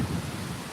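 A low rumble of thunder under steady heavy, cloudburst-like rain at Pirachi Kuroli, Pandharpur, Maharashtra, short and continuous.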